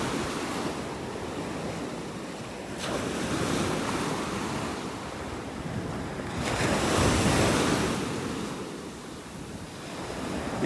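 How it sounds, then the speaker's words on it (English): Ocean surf rolls in steadily at Wiggins Pass beach in North Naples, Florida, with broad washes of breaking waves swelling and fading and some wind buffeting the microphone, with no voices. "This is Area 5 Beach, Wiggins Pass."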